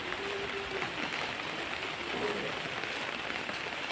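Steady rain falls outdoors at a scenic nature spot, a dense, even hiss of drops with no breaks, moderately loud and unaccompanied by talk.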